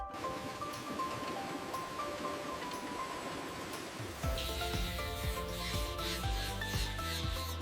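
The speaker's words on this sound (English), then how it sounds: "Sanding ensures smooth surfaces and precise fit for assembly." Tractor components are sanded in a factory, heard as a continuous rasping, rubbing scrape under background music, growing louder and coarser midway through.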